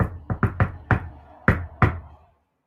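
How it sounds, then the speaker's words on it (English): Six or seven light, friendly knocks on a door ring out close and crisp in an uneven rhythm, then silence. "you knock on the door, you do the friendly knock, and no answer"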